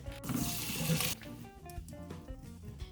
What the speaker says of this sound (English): The noodles are ready, and I'm going to drain the water